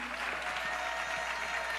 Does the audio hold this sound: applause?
yes